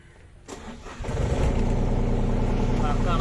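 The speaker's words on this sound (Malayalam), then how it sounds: "വണ്ടി സ്റ്റാർട്ട് ചെയ്യാൻ പോയി." A Tata Hitachi excavator engine cranks briefly, then catches and fires up, settling into a steady, loud low rumble close by.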